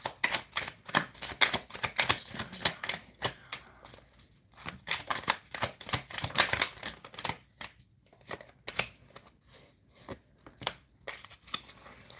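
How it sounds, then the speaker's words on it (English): Tarot cards being shuffled by hand, with repeated crisp riffling and flicking bursts in an uneven rhythm, close and fairly quiet, with no voices. "I want to shuffle and see if they come back out."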